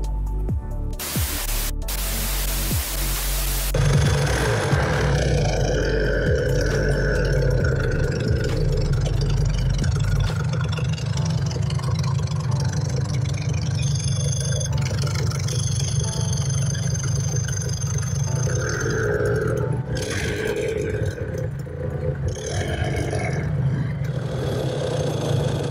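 Yamaha TZR 250 two-stroke motorcycle engine idling, a continuous loud close running drone with a burst of static-like noise at the start; no talk heard.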